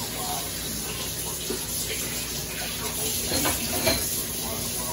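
Turkey sausage frying in a pan, a steady close sizzle running throughout with faint scraping and clinking on top.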